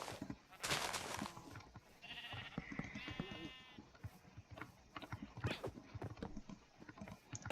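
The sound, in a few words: sheep bleating in Minecraft video game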